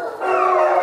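Wolves howling together in a circle at a winter enclosure, a sustained, loud, wavering chorus of several overlapping voices sliding in pitch, with no talk over it.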